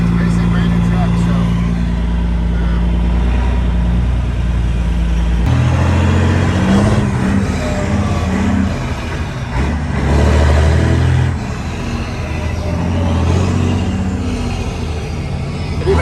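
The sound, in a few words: Peterbilt cabover truck engine running and revving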